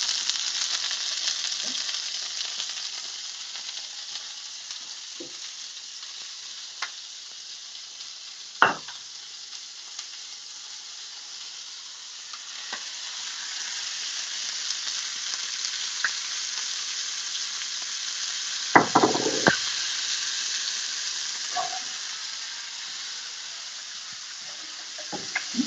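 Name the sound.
cherry tomatoes sizzling in a pan with salmon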